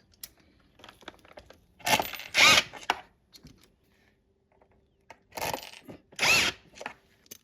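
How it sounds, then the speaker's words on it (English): A power drill fitted with a square drive bit drives a security screw in two short bursts, each a loud whirring grind lasting about a second, separated by quiet pauses with faint handling noises. "Now with my square drive bit, put in the security screw."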